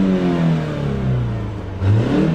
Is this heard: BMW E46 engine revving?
yes